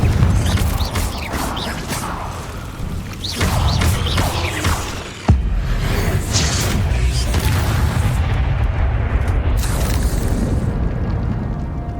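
Bombarda explosion spell in Hogwarts Legacy, a loud booming blast with rumbling debris and crashing layered over dense game sound, one sharp hit midway followed by sustained roar.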